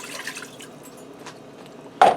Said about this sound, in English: I'm going to dump a cup of water in the bottom of the Instant Pot.